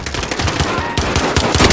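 Automatic gunfire in the video game Call of Duty Warzone: loud rapid bursts of shots with a steady rattling rhythm, close and dense throughout, with no voices.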